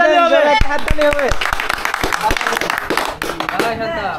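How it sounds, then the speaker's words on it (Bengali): Hands clap at a simple village wedding turmeric ceremony, a dozen or so sharp, uneven claps from a small crowd, while people talk and call out over them. "একটা হাততালি হবে"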